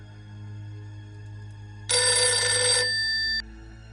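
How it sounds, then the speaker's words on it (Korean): A telephone ringing sound effect, one loud electronic ring burst lasting about a second and a half that stops abruptly, over a quiet low hum with no talk. "오후에 무당 아주머니께 전화가 오셨어요."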